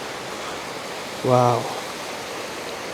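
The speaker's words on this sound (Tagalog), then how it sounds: "nanggagaling yung tubig na dumadaloy papunta rito" Clear hot spring water flows steadily at a resort in the forest in Eastern Visayas, a continuous rushing hiss broken only by a brief spoken exclamation.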